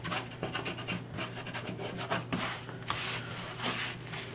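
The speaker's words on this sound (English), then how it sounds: "if there's some adhesive on there, I just rub it off." Fingers rubbing leftover adhesive off a paper birthday banner, a soft continuous scratchy rubbing in quick repeated strokes, close and quiet.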